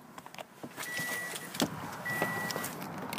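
A 2015 Toyota RAV4 Limited's electric sunroof motor whirs as it opens, a steady mechanical hum inside the cabin with a couple of soft clicks.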